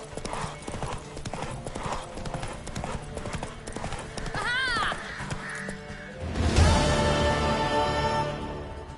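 Rhythmic clip-clop of hooves keeps a steady beat, with a crow cawing partway through and a louder burst of commotion near the end.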